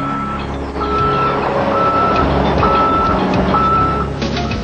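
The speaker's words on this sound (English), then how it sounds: "The beeping is no less annoying, but everything else about this HDTV truck is special." Repeated reversing beeps from an HDTV broadcast truck at a baseball game, steady evenly spaced tones sounding loud and close over a low engine rumble, with no talking.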